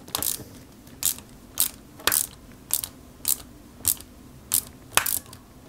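Small screw being driven into a 1/8 scale Subaru Impreza WRC 2003 model kit part, giving about nine short, crisp ratcheting clicks at a steady, roughly half-second rhythm, close and fairly loud against a quiet background.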